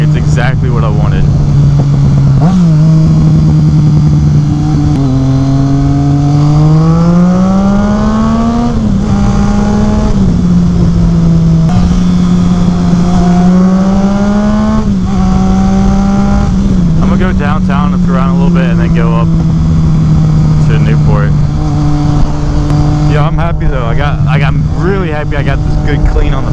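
A Triumph Street Triple motorcycle fitted with a Two Brothers S1R Black Series exhaust revs up and down, close and loud, in repeated rising and falling swells that settle back to a rough idle between blips.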